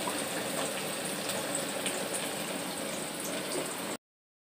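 A little water poured into a frying pan of onions for a pangas fish bhuna makes a steady, even hiss that holds for about four seconds, then cuts off abruptly into silence.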